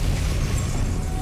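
A Depulso spell blast in Hogwarts Legacy, a short, dense boom with heavy low rumble. It stays loud and steady for just over a second, with no voices.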